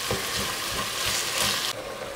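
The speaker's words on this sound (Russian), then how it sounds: "Теперь обжариваем фарш вместе с луком." Minced chicken and onion sizzle and crackle steadily in a hot pan, close by, with faint stirring scrapes and no talking.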